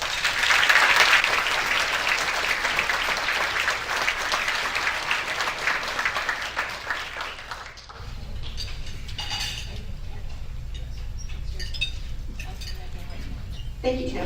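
A banquet crowd breaks into sustained applause, dense and loud at first and thinning after several seconds, with clinks and a speaking voice emerging as the clapping fades.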